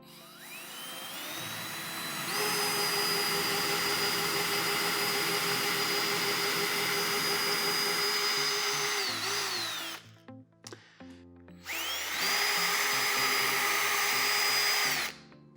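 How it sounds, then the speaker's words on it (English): A power drill boring holes in drywall with a 7/32 bit for a TV wall mount: a loud whining motor spins up and holds a steady pitch for about eight seconds, stops briefly with a few small clatters, then whines up again. "Next, we're going to drill the holes."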